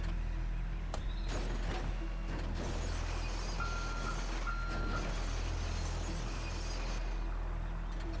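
A forklift in GTA Online backing up, two electronic reversing beeps over a constant loud engine drone with heavy low rumble, and a few mechanical clunks from the vehicle.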